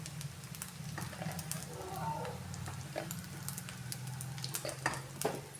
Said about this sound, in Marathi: मस्त असे छोटे छोटे आपण भजीसारखे हे तळून घेऊया.